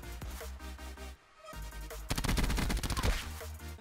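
Gunfire in a Call of Duty match, including sniper rifle shots, comes as loud rapid cracks and bursts over steady game audio, with a short lull before a denser volley.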